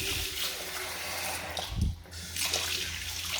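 Cold water running steadily from a household tap after a water-pressure problem was fixed, a close, continuous hiss and splash that briefly surges and dips midway before flowing on.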